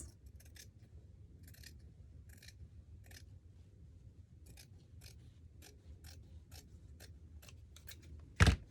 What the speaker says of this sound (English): And then I'm just going to cut the excess.